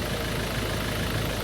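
A car engine idling, a steady continuous rumble with no change in level over the short stretch, no voices.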